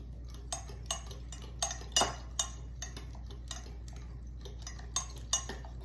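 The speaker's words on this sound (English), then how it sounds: "stirring everything here" Metal spoon stirring old-fashioned banana pudding custard in a pot, with scattered light clinks and scrapes against the pan at an irregular rhythm, close and fairly quiet over a steady low hum.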